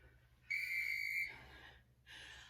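A single sharp whistle blast at a core workout class, loud and steady for under a second, followed by softer breathy noise and a second faint hiss.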